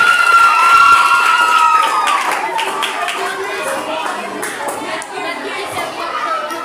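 An audience at a school contest finale claps and cheers during a certificate presentation, a loud, steady wash of applause with crowd voices and a whistle-like tone near the start.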